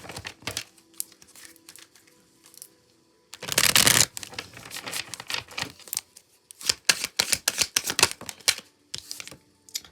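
Tarot cards are shuffled to draw an advice card, giving bursts of close crisp riffling and flicking with a louder sustained riffle near the middle, followed by quick rapid card snaps and brief pauses.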